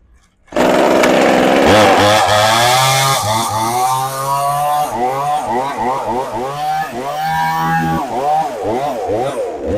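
A Hyundai one-handed 12-inch chainsaw starts up abruptly and keeps running loud and close, its engine note rising and falling through repeated revving.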